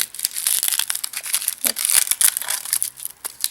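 A small ball of aluminium foil crinkles and crackles continuously as it is unwrapped by hand, close and fairly loud, in dense rapid rustles with no pauses and no speech.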